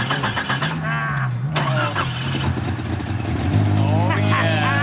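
A mini Jeep engine with a newly fitted starter cranks and catches, then settles into a low, steady idle that grows slightly louder near the end, while people talk over it close by.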